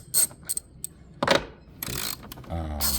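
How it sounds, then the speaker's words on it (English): A regular ratchet working on the battery terminal of a 2025 Jeep Wrangler 2.0, heard as several short bursts of rapid clicking separated by pauses, close and fairly quiet. "Just grab a regular ratchet for that"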